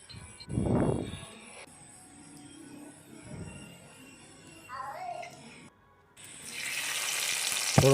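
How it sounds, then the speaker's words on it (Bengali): Bay leaf, dry red chilli and cumin hit hot mustard oil for a village-style pigeon meat curry, bursting into a loud, bright sizzle over the final seconds after a quieter stretch with faint background noise and brief voice sounds. "ফোড়ন দেওয়া হচ্ছে তেজপাতা,"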